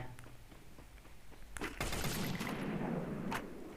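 Gunfire from a shooting video game with bot opponents: a few faint shots, then a loud burst of rapid fire followed by a sustained roar of weapon noise, with a sharp report near the end.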